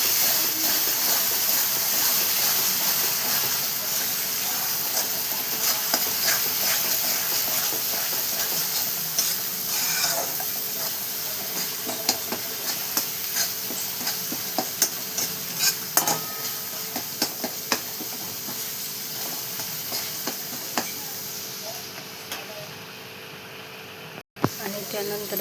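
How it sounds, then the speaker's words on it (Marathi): Ginger garlic paste frying in a pan for a chicken masala, stirred now and then: a continuous loud hiss of sizzling oil with scattered small clicks and scrapes from the spoon, fading slightly toward the end. "आणि त्यानंतर आपण आलं लसणाची पेस्ट टाकून घेणार आहे, बघा. छान मिक्स करून घेणार आहे."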